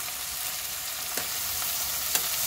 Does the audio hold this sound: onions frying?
yes